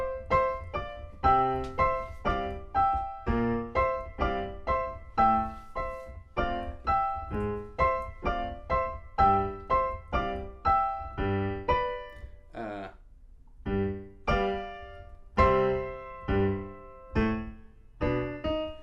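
A piano plays a melody from Scott Joplin's The Entertainer, distinct struck notes at a moderate pace, each decaying before the next, with a brief pause midway and no talking.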